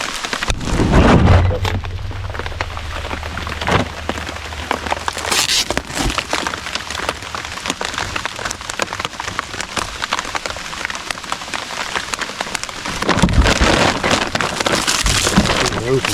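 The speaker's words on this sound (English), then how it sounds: "Man, it is raining" Steady heavy rain pours throughout, a dense hiss with brief louder bursts, while a low rumble sits underneath early on.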